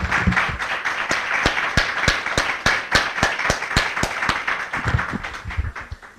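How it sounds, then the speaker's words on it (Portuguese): Rhythmic unison clapping from a church congregation, a steady beat of sharp claps over a bed of scattered handclaps and crowd noise, loud and close, with no talking. "Vamos dar uma salva de palmas para o nosso Deus?"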